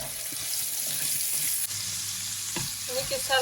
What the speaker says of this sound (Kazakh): Ең алдымен етімізді жақсылап қызартып қуырып аламыз.